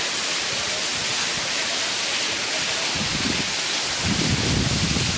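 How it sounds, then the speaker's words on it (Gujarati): Steady rain pours down in an afternoon monsoon shower, a dense even hiss that fills the whole stretch, with a low rumbling swell near the end and no voices. "વરસાદ પડ્યો"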